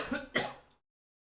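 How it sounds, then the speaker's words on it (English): A man clears his throat once, close to the mic, with a short rough rasp and a quick second push before it goes silent. The setting is a quiet room during a live game-casting session. "as I clear my throat as well"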